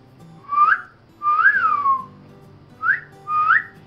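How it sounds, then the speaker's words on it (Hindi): Person trying to whistle at a family barbeque at home, four short rising whistles in breathy, wavering bursts, close and fairly loud with pauses between. "अब मेरे से नहीं सीटी बज रही"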